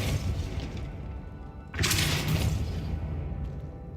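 A Depulso spell is cast in Hogwarts Legacy, a sudden whooshing blast with a bright crash partway through, rising over a low rumbling game background and then fading out, with no voices.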